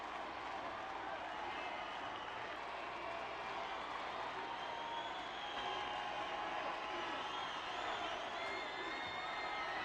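A large crowd in the video game Reverse: 1999 claps and cheers steadily throughout, with scattered whoops and shouts rising over a dense wash of applause.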